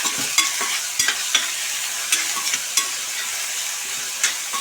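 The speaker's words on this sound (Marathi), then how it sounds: "तेल आपले चांगले तापले आहे आता त्याच्यात मी बारीक चिरलेला कांदा घालते कांदा आपण चांगला परतून घेऊया" Finely chopped onion frying in hot oil gives off a close, steady sizzle, with repeated clicks and scrapes of a spatula stirring it, and no one speaking.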